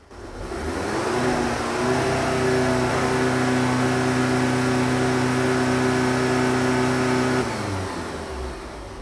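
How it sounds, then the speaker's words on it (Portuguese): A 2.0 TSI EA888 direct-injection engine in a VW Jetta revs up from idle, holding a steady, loud mid-pitched drone for several seconds before easing back down, with no talking over it. "Vamos agora simular uma aceleração no motor e observar o que acontece com a pressão do reio, a pressão de alta."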